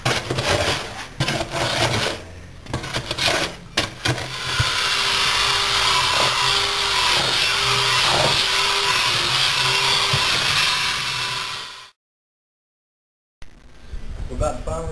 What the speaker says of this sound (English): we're going to start to mix it with our drill bit